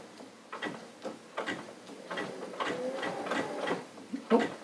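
A sewing machine with an open toe foot runs while topstitching a patch pocket, making a close, rhythmic ticking and whirring that speeds up steadily with no talking.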